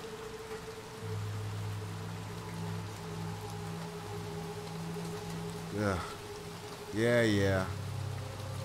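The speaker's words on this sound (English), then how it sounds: "It's raining out here." Soft, steady video game rain patters in the background under a low hum, with a couple of brief voices speaking.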